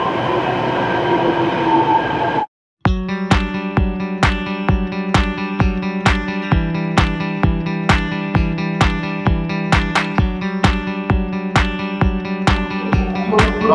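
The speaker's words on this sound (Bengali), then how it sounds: "আমাদের train 12985 Jaipur Delhi double decker দিয়েছে 2 নম্বর প্ল্যাটফর্মে" A Jaipur–Delhi double-decker express train rolls past at close range after a brief silence, its wheels beating a loud, steady clickety-clack rhythm over rail joints against a continuous rumble.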